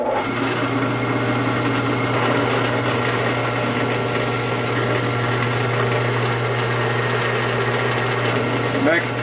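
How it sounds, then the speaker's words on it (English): A power drill runs steadily and loudly, drilling out a broken tap with light peck drilling, a constant motor whine with a low hum throughout and no pauses. "Recommends going very light, peck drilling."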